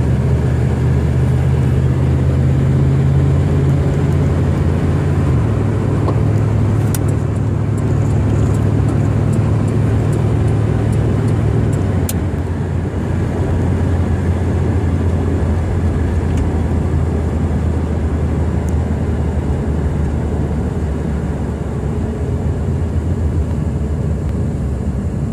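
A 1979 Buick Regal V8 coupe accelerates, its engine droning steadily and loudly from inside the cabin, with the pitch stepping through gear changes.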